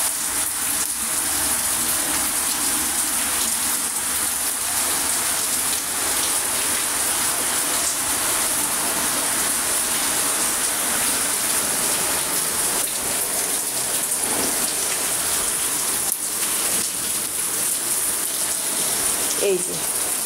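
Steady evening rain falls on potted plants on an outdoor balcony, a dense continuous hiss of drops on leaves and surfaces with no voices.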